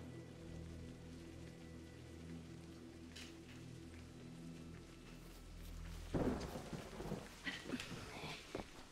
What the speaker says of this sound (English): Here comes the rain again.